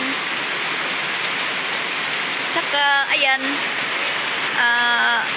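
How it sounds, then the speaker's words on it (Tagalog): Heavy rain hisses steadily and loudly throughout, while a voice speaks briefly over the downpour in two short bursts. "Dito naman po yung ulan."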